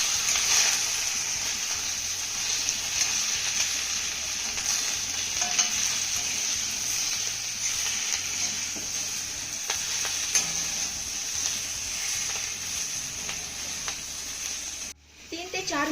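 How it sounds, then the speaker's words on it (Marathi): Cabbage vadis sauté in a pan with a steady, close sizzle and repeated spatula stirring throughout, ending abruptly. "आता ह्या वड्या ना आपल्याला 3 ते 4 मिनिटं चांगल्या परतून घ्यायच्या."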